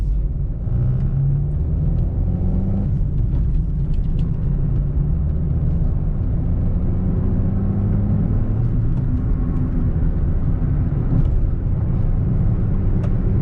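A manual car gains speed on the road, its engine and tyres giving a continuous low rumble with rising and shifting tones as it pulls up through the gears, steady and close from inside the cabin.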